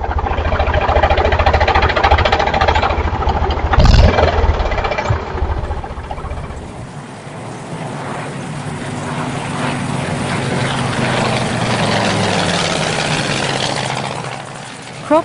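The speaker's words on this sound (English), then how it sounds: "Tractor backhoe loader." A loud diesel engine of a tractor backhoe loader runs steadily with a deep rumble and mechanical clatter, shifting pitch partway as it works, with no talking.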